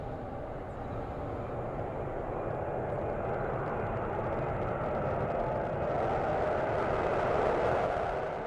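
Lockheed L-1011 jet carrying a Pegasus XL rocket beneath it, departing with a continuous loud, broad engine roar that holds steady and swells slightly toward the end, heard from a distance with no voices.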